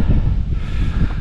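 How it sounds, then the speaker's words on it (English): Strong gusts of wind buffet the microphone on an open Lake District fell near High Snockrigg, a loud continuous roar with no voices during the short burst. "it is windy today"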